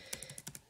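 Several quick keystrokes on a computer keyboard, close and faint, as a short burst of typing with no talk.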